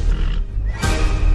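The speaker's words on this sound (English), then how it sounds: "This horse got a lot of spirit." Spirited horse in a Sonic trailer, giving a loud, close whinny that rises into a sharp, strained neigh near the end.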